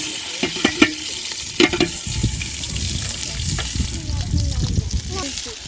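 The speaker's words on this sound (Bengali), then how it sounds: "এখন পেঁয়াজ দিয়ে দেবো" Onions sizzle and fry in a hot pan for khichuri cooked outdoors on a river sandbank, with scraping stirs and clinks of a spoon over a steady frying hiss.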